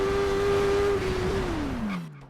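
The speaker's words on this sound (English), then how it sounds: "Interesting how the bike didn't wheelie when I was hard accelerating out of the curve on a lean." A motorcycle in the TT Isle of Man racing game accelerates hard out of a curve while leaned over, its engine holding a loud steady high-pitched whine that drops in pitch and fades toward the end.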